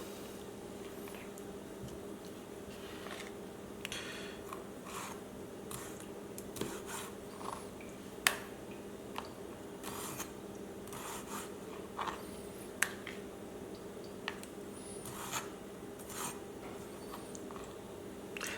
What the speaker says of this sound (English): Alright, so let's chop this.